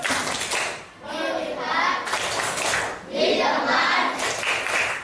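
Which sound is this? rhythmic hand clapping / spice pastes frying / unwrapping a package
rhythmic hand clapping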